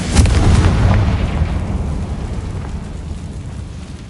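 A Confringo spell explodes in the video game Hogwarts Legacy, a loud close boom that decays into a long rumbling tail.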